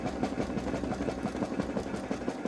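A Babylock Solaris 3 (Vision) embroidery machine stitches an appliqué bow onto a sweatshirt with a steady, fast mechanical whir and rapid rhythmic needle pulses, close and moderately quiet.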